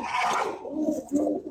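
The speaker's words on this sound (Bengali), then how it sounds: "এটা আমার সবচেয়ে সিনিয়র কবুতর" A white racing pigeon, the oldest bird of a breeder's loft, gives low throaty coos close by, two soft rolling phrases over about a second and a half with no talk.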